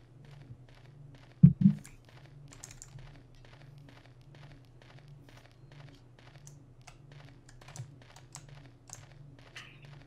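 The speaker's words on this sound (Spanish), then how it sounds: "Tendré que mudarme a puro teclado." Quick, light keystrokes tapping at a steady clip on a computer keyboard during a Silent Hill 2 play session, with a couple of louder thumps near the start over a low constant hum.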